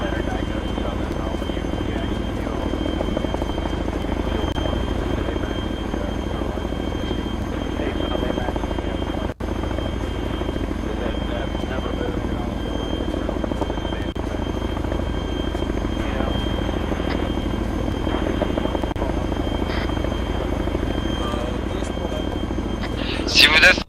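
A helicopter hovers in a co-op shooter game, its steady rotor drone loud and continuous across the whole stretch, with players talking over it.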